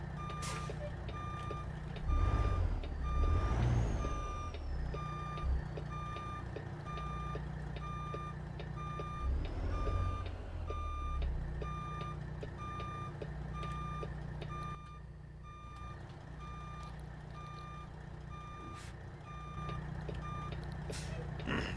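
A truck reversing in American Truck Simulator gives steady, evenly spaced backup beeps over a low engine rumble, with an air-brake hiss and a brief louder engine surge early on.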